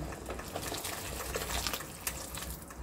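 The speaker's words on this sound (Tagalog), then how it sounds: "ang gagawin ko nito guys ay maglalagay na tayo dito ng mainit na tubig" Hot water splashes and gushes softly as it is poured into a cooking pot of tinola with okra, a quiet, continuous liquid pour with no one talking.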